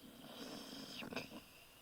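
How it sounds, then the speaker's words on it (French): The wolf from the Little Red Riding Hood fairy tale snores loudly, a rasping, breathy drone with one stronger snore rising near the middle, heard close and alone. "Il se mit à ronfler haut et fort."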